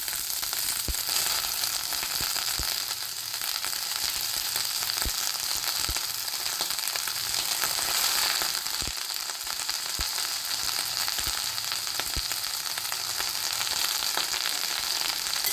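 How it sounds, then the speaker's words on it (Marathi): Washed fenugreek leaves frying with green chillies in a pan, a continuous hiss of sizzling oil broken by scattered sharp crackles and pops. "तर यामध्ये आपण धुतलेली मेथीची भाजी टाकून घेऊ"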